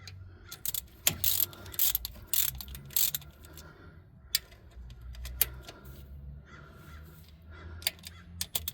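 Bursts of rapid ratchet clicking come from tightening transmission bolts on a 2013 Kia Rio 1.6L, repeating in short runs close by, with a crow cawing faintly in the background.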